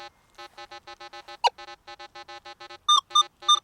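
Minelab Equinox Elite metal detector swept over iron targets including a nail: a rapid run of short, evenly spaced electronic beeps, with a few sharper higher chirps mixed in, close and clear.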